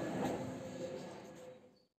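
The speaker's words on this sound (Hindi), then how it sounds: "I am waiting at the metro." A metro train at a station in Delhi rumbles and hums steadily nearby before fading out to silence, with no talk.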